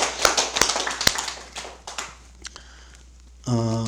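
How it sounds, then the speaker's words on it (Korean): A brief spatter of hand claps at a Buddhist memorial service, sparse and uneven, fades out after a few seconds before a tone starts at the end. "우리 박수 한번 보내주시고"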